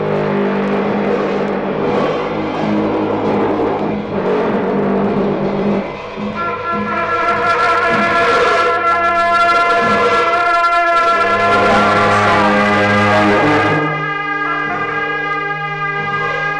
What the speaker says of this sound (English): Ritual music, which I never heard live until I went to Nepal